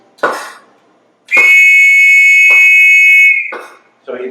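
An MVP catalyst alarm whistle sounds a loud, steady high-pitched tone for about two seconds, following a short hissing burst and ending with a brief release of air as the catalyst flow reaches the alarm.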